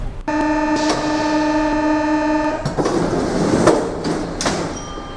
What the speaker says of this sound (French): c'est le bruit du métro parisien